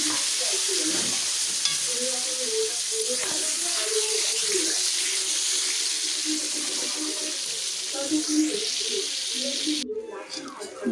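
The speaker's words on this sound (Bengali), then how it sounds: "এগুলোকে আমি ভেজে নেবো এবারে" Fish pieces rubbed with salt and turmeric frying in a pan, a continuous close sizzle with stirring clatter for most of the stretch, ending abruptly.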